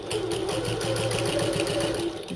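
A sewing machine fitted with a walking foot stitches a 1/8-inch seam on a bucket tote bag, running as a fast, steady mechanical chatter close by with no pauses.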